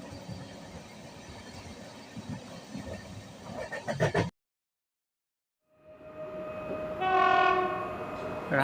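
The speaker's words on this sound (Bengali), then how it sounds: "কোথাও এক্সপ্রেস ট্রেন এগিয়ে চলছে এই রাত্রিবেলায়" An express train running at night near Balasore station on the Howrah to Puri line, a continuous rumbling roll that drops out into silence, then returns with a clear horn-like tonal blast, close and moderately loud.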